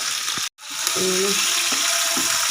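Cumin seeds and onion sizzle steadily in hot oil for chapan kaddu (zucchini curry), a brief gap near the start, then continuous loud frying with faint clinks and stirring.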